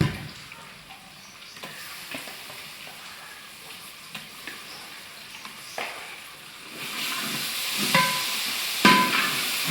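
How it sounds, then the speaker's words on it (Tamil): Ginger paste sautés with golden-brown onions in a large pot of chicken gravy, a low sizzle with intermittent spoon scrapes that swells louder and hissier toward the end. "இஞ்சி போட்டு பச்சை வாசனை போகிறதுல ஒரு 2 நிமிஷம் போது நல்லா வதக்கி வைப்போம்"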